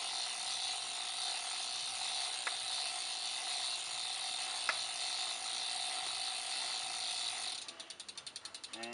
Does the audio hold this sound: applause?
no